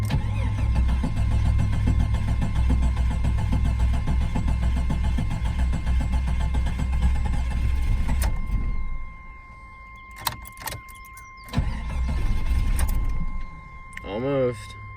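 A 1988 Jeep Wagoneer XJ engine cranks loudly and steadily for several seconds, then cuts out, followed by a few sharp clicks and a brief second churn as it stalls.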